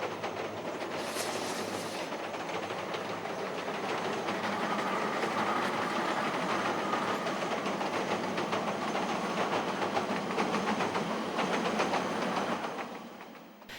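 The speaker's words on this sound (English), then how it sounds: "DJ 3096 headed the train for the run over the Dargaville branch" DJ 3096 diesel locomotive hauling a train across the timber pile bridge at Mararitu on the Dargaville branch, a steady continuous rumble and rolling rattle with faint clicking throughout, fading slightly at the end.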